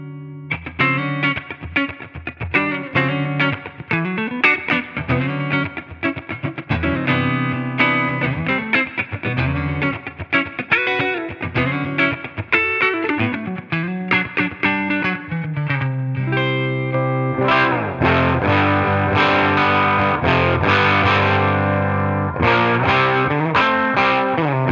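High-gain distorted electric guitar played through a Line 6 Catalyst amp, with chugging riffs and sustained crunchy chords, loud and continuous with chorus-like effect and reverb, no talking.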